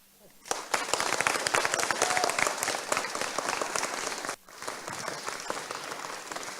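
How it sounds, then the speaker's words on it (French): Audience at a social innovation hackathon bursting into loud applause, dense clapping that starts abruptly, holds strong for several seconds, briefly dips, then resumes, with some voices mixed in. "je vais vous demander un tonnerre d'applaudissements"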